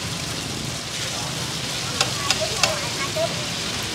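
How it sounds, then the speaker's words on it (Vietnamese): Taro batter cakes deep-frying at a street food cart in Binh Duong, a steady dense sizzle and bubbling of oil with a few sharp clinks of a utensil, people talking faintly in the background. "để anh chiên cho"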